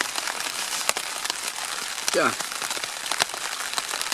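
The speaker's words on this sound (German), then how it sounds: "Mit 4 Stunden Wartezeit regnet es immer noch wie Sau." Heavy rain pours steadily during a multi-day tour outdoors, a dense constant hiss of drops close by, with a brief spoken word partway through.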